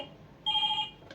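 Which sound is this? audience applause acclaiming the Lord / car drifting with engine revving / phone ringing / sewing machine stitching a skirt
phone ringing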